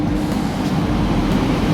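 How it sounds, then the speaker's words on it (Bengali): A passenger train pulls into the station at Ghatshila with a steady, low, rumbling roll of wheels and carriages, continuous and moderately loud, with no talk. "এই আমাদের ট্রেন ঢুকছে।"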